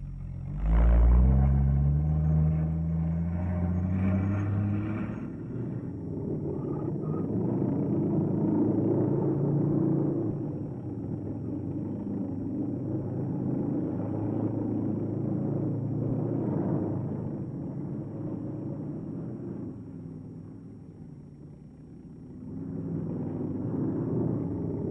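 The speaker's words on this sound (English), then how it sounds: "Officially designated as the M29C light cargo carrier, this vehicle has proved itself equally at home, not only in deep snow" An M29C Weasel light cargo carrier, a tracked military vehicle, drives over deep snow-covered terrain, giving a loud, steady low engine rumble that swells near the start and holds continuously throughout.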